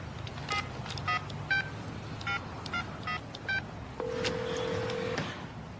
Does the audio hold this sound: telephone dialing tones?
yes